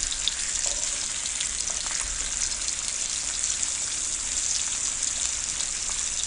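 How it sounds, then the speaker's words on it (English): Beef burgers frying in a pan give a steady, close, broadband sizzle that holds at an even loudness throughout, with no talking over it. "once these burgers are done frying here"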